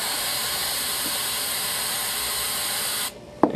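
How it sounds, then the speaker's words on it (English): A steady aerosol spray hisses loudly for about three seconds, then cuts off abruptly, followed by a brief clack. "spray a small pool of it as so"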